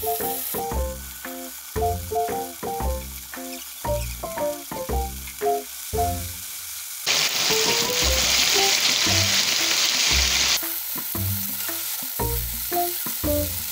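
Chicken fries in a pan with a steady sizzle and crackle, broken by rhythmic thumps and clinks of a utensil, then a louder burst of hissing as pieces are turned.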